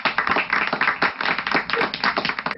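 Children in a Zoom class clap together in a quick, uneven rhythm of sharp handclaps, heard close through a compressed online-call connection.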